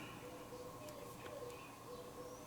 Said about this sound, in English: is that an owl or some other kind of bird?